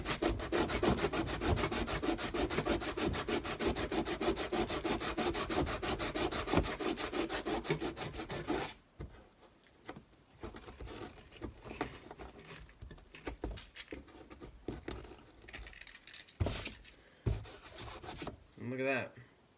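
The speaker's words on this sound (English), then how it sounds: "Sand down the top of this hole. And then we're going to sand down also the bottom of the hole." Sandpaper rubs back and forth inside a hole cut in a control panel for an HO scale train layout. Steady, dense scratching strokes are close and continuous, then become intermittent scuffs and rubs.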